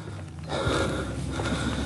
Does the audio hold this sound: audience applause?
no